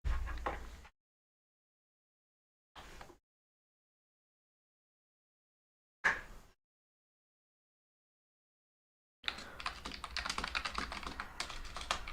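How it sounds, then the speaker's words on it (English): Loud computer keyboard typing in short clattering bursts separated by silences, ending in a sustained rapid stretch of keystrokes, close and alone with no voices. "It's a very loud keyboard."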